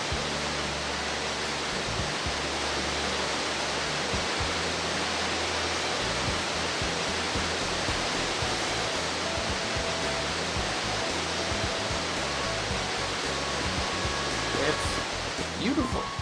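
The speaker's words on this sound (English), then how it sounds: "Why am I staring at the waterfall?" A waterfall in the video game Grandia 2 produces a steady, dense roar of rushing water that holds evenly throughout without pause.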